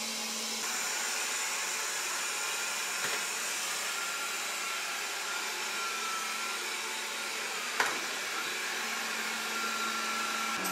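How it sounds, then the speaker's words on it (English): A Proscenic 820S robot vacuum cleaner running indoors, giving a steady, fairly quiet whirring hum with a constant high-pitched motor tone and a couple of faint clicks, no talking. "I've turned the vacuum on and off"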